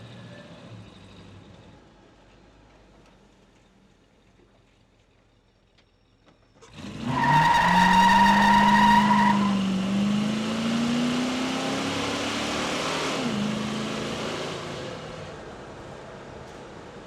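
A 1968 Chevy Impala SS427 big-block convertible starts off after a quiet lull, its engine rising in a loud, rising rev as it accelerates away, then holding a steady rumble while driving, with no voices.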